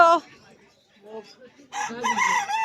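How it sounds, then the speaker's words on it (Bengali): A rooster crowing at a busy village poultry market, one clear crow close by with a second call rising near the end amid the market's background noise. "মোরগ ডাকছে দেখুন"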